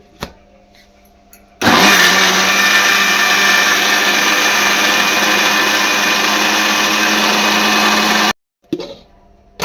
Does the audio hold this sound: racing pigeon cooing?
no